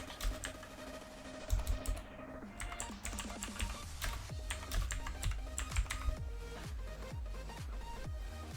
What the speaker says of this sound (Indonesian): Nama sekolahnya diketik seperti biasa.